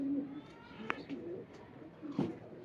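Pigeons cooing at close range, with a couple of soft coo calls standing out from a murmur of low bird sounds and background noise.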